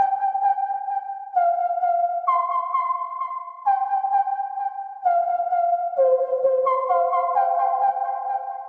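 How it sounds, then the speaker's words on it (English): A breathy, pure-toned sampled flute melody plays slow held notes, each trailing into soft echoes and a wash of reverb and delay, alone and clear. "this flute is a sample I found"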